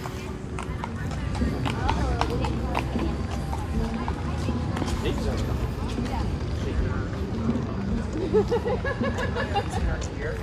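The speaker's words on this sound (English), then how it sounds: "We have the horse carriage there as well." Horse-drawn carriage hooves clip-clop at a steady trot amid a busy outdoor crowd in Manhattan, New York City, with chatter and murmuring voices running throughout.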